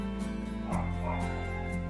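A dog yips and whimpers in the background, short repeated sounds over a steady hum, with no one talking.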